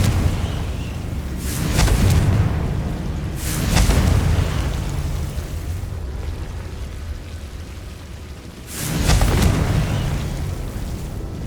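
Confringo blasting-spell explosions go off in Hogwarts Legacy. Three loud, booming bursts come a few seconds apart, each with a crackling tail, over a rumbling game background.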